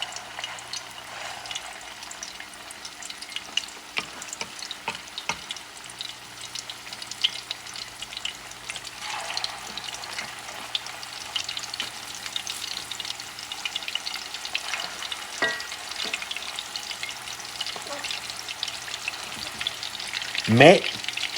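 Camel meatballs (kofta) fry steadily in a pan, a continuous broadband sizzle with occasional clinks and stirring noises, ending in a sharper scrape near the close.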